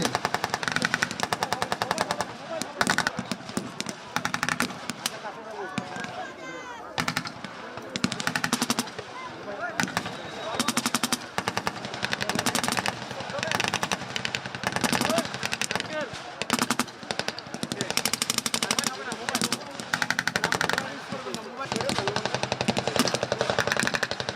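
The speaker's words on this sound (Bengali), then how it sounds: "ট্যাঙ্ক ও এপিসি হতে ফুড ইনফেন্ট্রির সাথে সমন্বয়ের মাধ্যমে শত্রুর উপর ফায়ার রচনা করা হচ্ছে" Tanks and armoured personnel carriers open fire during a Bangladesh Army winter combat drill, producing dense, rapid machine-gun bursts that rattle almost without pause, loud and close.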